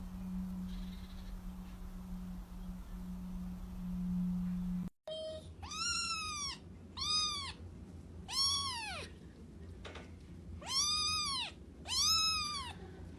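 A cat meows repeatedly in a series of rising-and-falling calls after a low steady hum cuts off, the meows coming in irregular bursts, clear and fairly close, with no speech.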